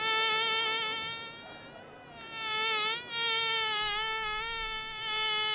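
A fly buzzes continuously and close by for several seconds, its whining drone wavering in pitch as it moves, briefly dipping once before carrying on alone.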